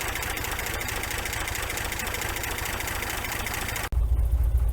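A 1961 GMC K1500 pickup engine runs on five cylinders with a steady, uneven idling chug and light knocking, close and continuous until a sudden cut to a deeper, louder rumble near the end.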